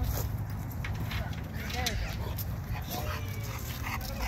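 A Cane Corso whimpers and yips at a dog park as a rottweiler gets behind her, short thin whines rising over a busy outdoor background with voices nearby.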